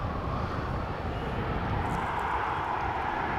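Alaska Airlines airliner at Dallas/Fort Worth Airport, a steady broadband jet roar holding at even loudness throughout, heard from a distance with no talk over it.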